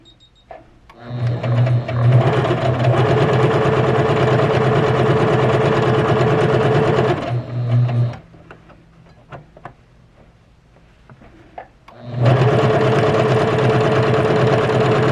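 A Juki HZL-K85 sewing machine stitches a buttonhole, a loud close, steady mechanical whirr running for about six seconds, stopping for a quiet gap with light clicks, then resuming strongly.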